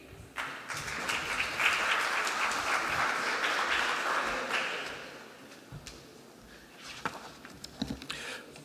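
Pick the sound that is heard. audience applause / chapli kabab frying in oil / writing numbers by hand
audience applause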